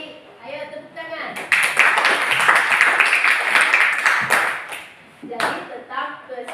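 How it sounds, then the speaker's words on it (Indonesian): A group of students claps hands rhythmically in a classroom for about three seconds after a voice speaks, then a short second burst of clapping follows amid talking. "Ayo tepuk tangan."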